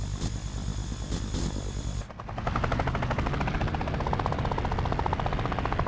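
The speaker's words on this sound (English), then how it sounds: "For example, the helicopter sound itself." A helicopter in an indie video game flies with a steady, fast chopping rotor pulse that follows a brief burst of different game noise, loud and continuous with no speech.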